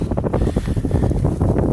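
Wind buffets the microphone in heavy, rumbling gusts in a millet field being harvested, a loud low-frequency roar with no other clear sounds.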